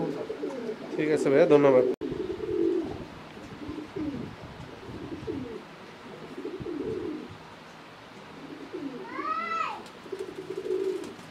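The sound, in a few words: Pakistani high flyer pigeons cooing in a pigeon house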